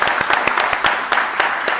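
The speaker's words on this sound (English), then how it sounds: "Please give her one more round of applause." An audience applauds at an evening real-estate networking event, dense continuous clapping with sharper individual claps standing out, steady and fairly loud throughout.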